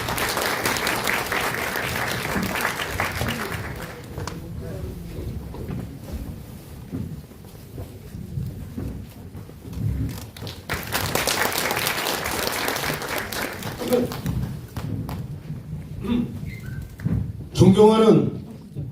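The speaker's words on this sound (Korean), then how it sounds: "큰 박수로 맞이해주시기 바랍니다." Audience applause at a residents' meeting on a neighbourhood redevelopment in Seoul, welcoming the committee chairman to speak: loud sustained clapping from a crowded hall that fades, then swells again, with some talk and thumps around it.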